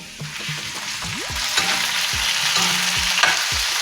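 Chopped onions and then tomatoes fry in hot oil with cumin on a tawa, a steady close sizzle broken by repeated scraping stirs and knocks of a spatula against the metal, no talking.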